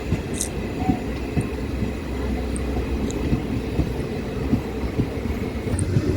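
A train rumbles past at a station with steady low-pitched rolling noise and faint metallic squeals, heard from nearby throughout.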